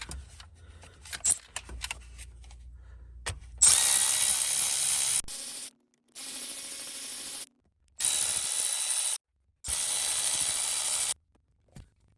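Ratchet wrench loosening 13mm shifter bolts on a fourth-generation Pontiac Trans Am with an LT1, a few light metallic clicks and jingles followed by several separate bursts of rapid ratcheting, close up with short pauses between them.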